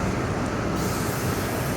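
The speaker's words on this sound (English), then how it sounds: "We just got to the train station." Train noise at a train station in Puerto Rico: a loud, steady rumble fills the whole short stretch with no speech over it.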